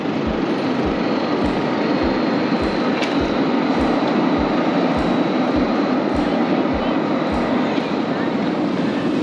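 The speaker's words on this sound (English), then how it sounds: "They have a tram system." A tram rolls along a Helsinki city street, loud and close, its wheels knocking out an even, regular beat of clacks over a continuous rumbling roar.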